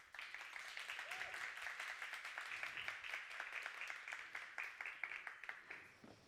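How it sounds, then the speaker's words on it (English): Audience applause fills a conference hall at the Women In Tech Congress 2022, a dense, steady patter of many hands clapping that holds throughout and tapers slightly at the end. "Can we give her a warm applause?"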